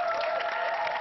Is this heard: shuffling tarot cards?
no